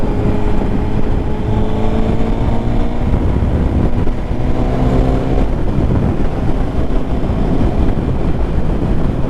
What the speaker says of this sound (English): So this one's running on a race fit exhaust, slip-on exhaust.